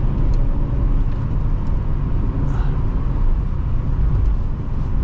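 A 2006 Toyota Matrix XR heard from inside on the road, with a steady low engine drone and road rumble that holds evenly throughout, without a clear rise in revs.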